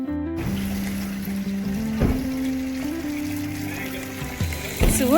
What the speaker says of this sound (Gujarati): અને બહુ જ મસ્ત રિસેપ્શન આગળ આ ફાઉન્ટેન છે.